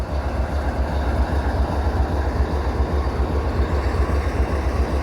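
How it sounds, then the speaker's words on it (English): A heavy, fully loaded coal train rolls steadily downhill nearby, a continuous low rumble with faint wheel clatter holding level throughout, with no voices. "That's a fully loaded coal train, so it's heavy, and it's going downhill"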